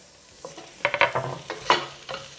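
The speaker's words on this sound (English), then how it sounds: "I'm just going to add in the garlic now because that's enough color, like a nice golden" Garlic added to a pan of golden-cooked ingredients for a spinach and bean shakshuka: a quiet hiss of frying under a series of clattering stirs and scrapes, close and unaccompanied by talk.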